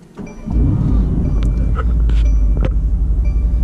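A 2018 Mercedes-AMG GT-R engine fires up from a press of the start button, a loud low rumble swelling within half a second and settling into a steady, throaty idle close by, with a few faint clicks over it.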